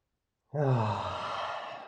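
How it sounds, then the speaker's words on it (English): A single long, audible exhale follows a short silence during a yoga-style stretching sequence. The breath is close, smooth and steady, and no talk is heard over it. "Another breath in and out."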